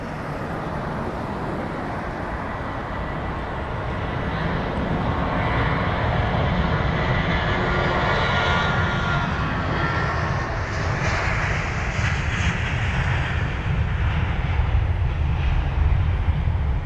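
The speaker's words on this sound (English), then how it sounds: "that A320 really rocketing out of there" A British Airways Airbus A320 roars through its takeoff roll at Heathrow, a loud, steady jet-engine rumble that swells after the first few seconds and holds strong to the end, with no voices over it.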